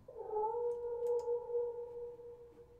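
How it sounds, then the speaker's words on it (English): A cat in The Last Door video game meows in a long, drawn-out wavering wail, faint and distant over a low ambient hum, with a couple of small clicks partway through. "I hear a cat meowing in the distance."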